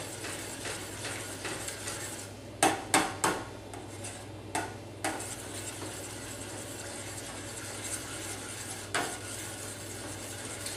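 Gluten- and dairy-free Alfredo sauce is stirred in a pan, giving a soft, steady scraping with a few sharp utensil clinks against the pan over a low background hum.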